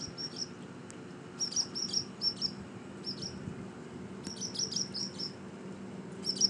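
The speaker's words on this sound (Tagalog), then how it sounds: "The mother bird is there, flying and tweeting." Baby birds chirp in a nest on a porch light, giving faint, high, rapid bursts of tweets in clusters separated by short pauses, over a quiet background hum.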